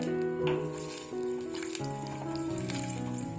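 Ginger and garlic fry in hot oil in a pan for paneer butter masala, a continuous close sizzle running beneath steady background music, with no speech.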